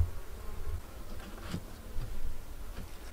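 Honey bees hum and buzz steadily around a backyard beehive, a soft continuous drone with a few louder passes as single bees fly near.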